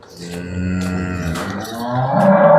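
A cow moos loudly and close by, one long drawn-out low call that rises in strength toward the end.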